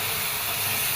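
Potato and pointed gourd vegetables going into a hot pan of fried onion and spices, giving a loud, dense, continuous sizzle close up for about a second.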